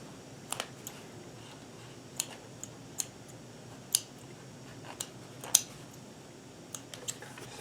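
Scissors snip thread after a buttonhole is sewn, giving a scattered series of faint, sharp clicks spaced irregularly over a quiet background.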